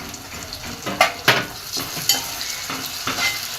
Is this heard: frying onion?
yes